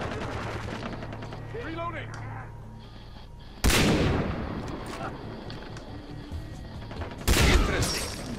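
Gunfire in the co-op first-person shooter Far Cry 3, with two sharp, loud shot bursts several seconds apart over a steady game soundscape and an earlier stretch of voices talking.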